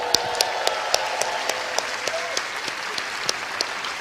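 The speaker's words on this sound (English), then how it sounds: "Give yourselves a round of applause." A group of people in a session applaud together, steady close clapping with sharp individual claps standing out, continuous for the whole stretch with no talk over it.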